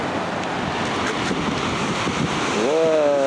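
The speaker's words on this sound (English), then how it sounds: "So this is going to be the first waterfall of the trip. Gibbon Falls." Gibbon Falls, a waterfall in Yellowstone National Park, roars as a broad, steady rush of water with wind buffeting the microphone; near the end a faint whistling tone rises over the torrent.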